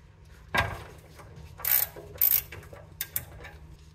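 A ratchet on a 17 mm socket loosens the oil drain bolt of a 2004 Honda Accord: a sharp knock, then a few grinding, clicking bursts and two quick clicks near the end, fairly close and with no voices.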